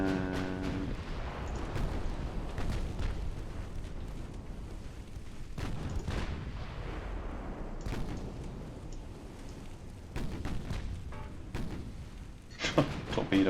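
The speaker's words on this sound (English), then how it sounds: "torpedo hit. Lovely." A torpedo strikes a König-class battleship in the Ultimate Admiral Dreadnoughts naval warfare game, producing several heavy booming impacts over a constant rumbling battle din.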